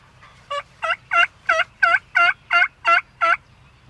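A big wild tom turkey gobbles nine times in a steady, evenly spaced run, loud and fairly close, during a spring turkey hunt on a farm, with a low rumble of background noise underneath.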